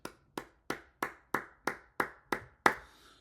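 Isolated, slow hand claps at a podcast, about nine sharp separate claps spaced evenly and heard close in a quiet room, with the last one slightly louder.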